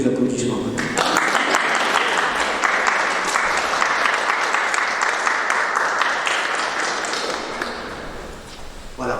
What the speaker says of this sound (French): je crois que vous méritez les applaudissements